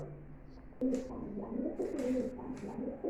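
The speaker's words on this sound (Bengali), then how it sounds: "আরেক পেয়ার কবুতর দেখাবো" Pigeons in a home pigeon loft coo in low, throaty repeated phrases, fairly close and steady, overlapping one another for a few seconds with no talk.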